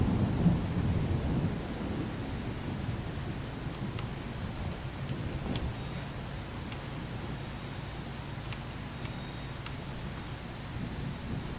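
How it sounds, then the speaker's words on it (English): A thunderstorm in modded Skyrim at ruins: dense steady rain pattering on surfaces with deep rumbling thunder, a heavier roll near the start, continuous and enveloping. "In the middle of a storm, we arrive at the ruins of Erkin."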